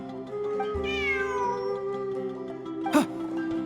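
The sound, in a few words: cat meowing in Genshin Impact video game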